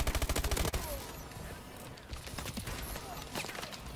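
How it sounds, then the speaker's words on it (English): A weapon fires in Call of Duty Advanced Warfare team deathmatch: a rapid automatic burst opens the clip, followed by scattered distant shots and game noise. "The hipfire on this weapon is pretty clean."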